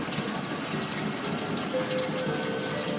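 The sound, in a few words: aquarium pump ramping up, pumping water to chiller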